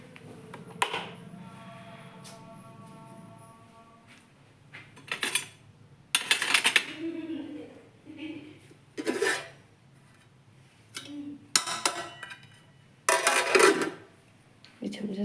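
Spoons and dishes clatter in bursts as a home-cooked meal is served, with scattered metallic clinks and scrapes between stretches of people talking nearby.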